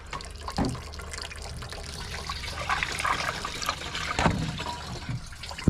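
Coolant is poured into an excavator, a steady liquid gurgle and splash with a few louder sloshes and clunks as the flow continues.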